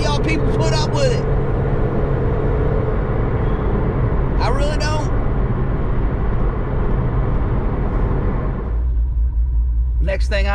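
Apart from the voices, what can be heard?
loud exhaust of a cammed 5.7 Dodge Challenger RT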